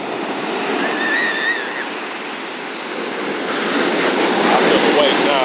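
Strong ocean waves at Dockweiler Beach, California, surge and wash in with a loud, continuous hiss of surf and some wind buffeting, building toward a heavier crash near the end.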